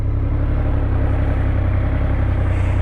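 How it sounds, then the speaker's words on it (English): A 2024 Triumph Rocket 3 GT motorcycle with standard exhaust idles with a steady, low rumble throughout, a continuous mechanical drone with faint clatter and no change in pace. "That's what it sounds like with a standard exhaust."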